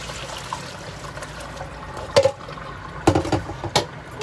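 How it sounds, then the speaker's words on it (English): Water draining off boiled manicotti pasta shells in a kitchen, a soft continuous trickle and splash with a few sharper sloshing bursts as the pot is tipped, close and moderately loud. "We'll drain them good."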